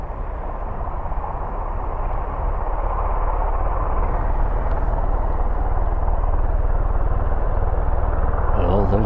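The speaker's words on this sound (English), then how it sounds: "those rotors are getting louder, getting faster" Helicopter rotors at an airport spin up, a dense, steady whirring roar that grows gradually louder over several seconds, heard fairly close with no talk.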